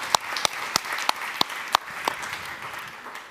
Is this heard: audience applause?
yes